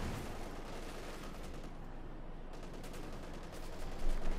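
Dense gunfire and explosive blasts fill a Company of Heroes 2 battle as a Panzer IV strikes, a continuous loud barrage of overlapping shots with a heavier burst near the end.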